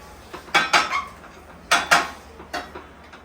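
A nut ladoo mixture is stirred in a pan on the stove, the spoon scraping and clinking against the metal in a few bright bursts with quiet gaps between them.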